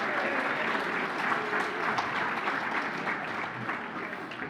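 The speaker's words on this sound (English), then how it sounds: "A round of applause for your champion" Gala audience giving a round of applause for an introduced champion, a steady wash of many hands clapping at moderate level, continuous throughout with slight easing near the end.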